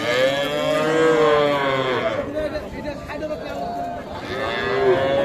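Young calves moo in long, drawn-out bellows at the Ambari cattle market, one at the start and another at the end, with people talking and crowd chatter throughout.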